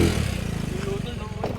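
A motorcycle engine idles close by, a fast, steady low putter of pulses that lasts the whole moment, with a voice briefly talking over it at the end.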